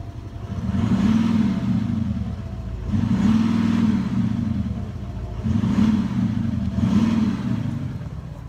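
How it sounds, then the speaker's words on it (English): A 2018 Audi SQ7 with 430 bhp, set to dynamic mode, revs its exhaust in four loud, deep bursts that rise and fall at a steady rhythm, close by with no talking. "Just listen to the exhaust."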